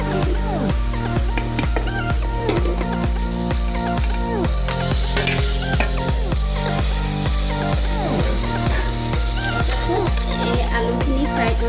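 Fried pointed gourd and potatoes are stirred through a sizzling masala gravy in a pan, with a loud, steady fry and regular scraping stir strokes roughly every half second throughout.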